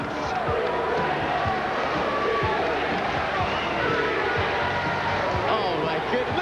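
A basketball crowd in Wellington roars wildly at a Tall Blacks versus Australia World Cup qualifier, a dense, steady wall of cheering and shouting with ball bounces and court thuds showing through.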